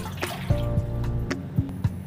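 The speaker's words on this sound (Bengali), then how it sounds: "দিয়ে এতে খানিকটা জল দিয়ে দেবো।" Water is poured into a pan of cabbage on a gas stove, several soft splashing drips and trickles spaced irregularly over a low kitchen hum, close and fairly quiet.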